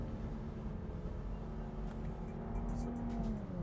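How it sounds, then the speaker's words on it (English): Chevy Camaro V6 convertible engine revving toward high RPM, a steady dense raspy roar with a rising whine near the end, loud and continuous without audible talk. "it has a very high rasp when you start getting towards really high RPMs, but it sounds really good."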